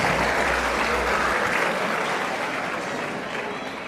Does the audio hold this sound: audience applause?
yes